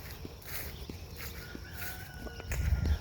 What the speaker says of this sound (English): The chickens are getting ready to come out.